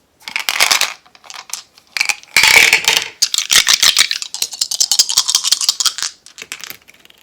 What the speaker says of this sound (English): The dice.